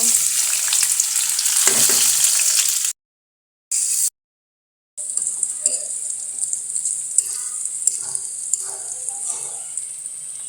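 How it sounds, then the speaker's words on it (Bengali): Onion and green chili hit hot oil in a wok with a loud, bright sizzle. The sound is cut off twice by brief silences, then returns as a quieter crackle with light stirring. "কড়াই তেল দিয়ে দিছি পেঁয়াজ কাঁচামরিচটা দিয়ে দেব"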